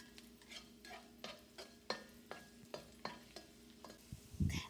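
Small pieces of chopped garlic fry quietly in a pan, with a soft sizzle under a regular series of spatula taps and stirring scrapes, then a louder clatter at the end.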